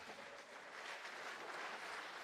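Pharmacists applaud together at a conference opening ceremony, a dense, steady wash of clapping from a large audience that holds evenly for a couple of seconds with no speech over it.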